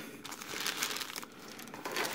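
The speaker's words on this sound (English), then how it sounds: "Goodbye, plastic bag." Plastic bag crinkling as it is torn open to unpack a beanie, a close, continuous rustle and crackle throughout.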